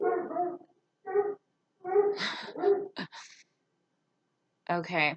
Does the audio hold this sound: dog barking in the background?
yes